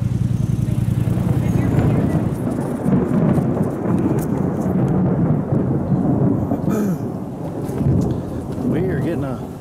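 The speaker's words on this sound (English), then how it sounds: "We are getting a lightning storm right now." A heavy, steady torrential downpour with deep rumbling thunder from a lightning storm rolling through, loud and continuous throughout, on an off-road trail in West Virginia.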